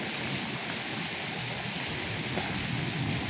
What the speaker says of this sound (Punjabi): ਭਾਰੀ ਮੀਂਹ ਪੈ ਰਿਹਾ